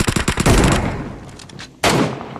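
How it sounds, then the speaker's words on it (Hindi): An MK14 rifle in PUBG Mobile fires a rapid burst of loud, close shots that ring out and decay, followed after a short gap by another sharp shot. "MK14 चला रहे हैं यहाँ पे टीम नंबर 1 के प्लेयर"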